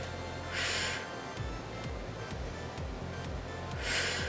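Two bursts of breathy, airy exhaling and inhaling during a Pilates and HIIT workout stand out over a steady backdrop of rhythmic music with regular beats.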